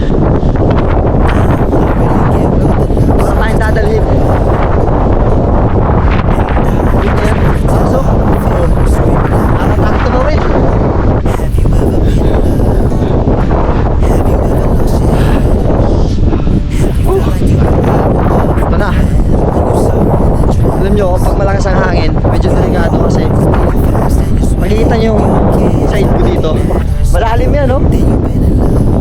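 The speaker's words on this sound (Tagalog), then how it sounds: "Sobrang lakas ng hangin dito." Strong wind roars continuously across the microphone at a balete tree, loud and buffeting throughout, with a person talking under the gusts.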